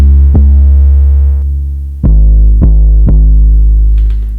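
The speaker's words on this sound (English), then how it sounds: "a little bit of a distortion to this 808" Distorted 808 bass in a beat being produced, a deep booming sub tone with buzzy overtones struck about five times at uneven intervals, loud and alone with no talking.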